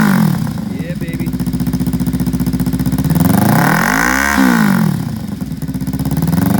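A used 2015 Kawasaki Ninja 300 SE lightweight sport motorcycle idling with a steady, buzzy throb, then revved once, its pitch climbing and falling before settling back to idle, close and loud.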